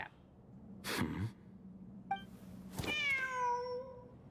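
A cat in the Genshin Impact video game gives a couple of short, clear meows, one early and a longer drawn-out one near the end, over quiet ambient background.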